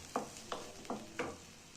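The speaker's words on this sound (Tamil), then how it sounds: "ஃபஸ்ட்டு வெங்காயத்தை போட்டு வதக்கிக்கலாம்." Onions sautéing in a pan for paneer butter masala, with four evenly spaced scrapes of a spoon stirring them over a soft background sizzle, close and fairly quiet.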